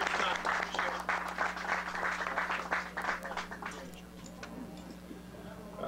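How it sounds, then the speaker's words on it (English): An audience gives a round of applause at a baseball farm-system talk. Scattered clapping stays fairly quiet and steady for several seconds, then thins out toward the end. "Please give him a round of applause."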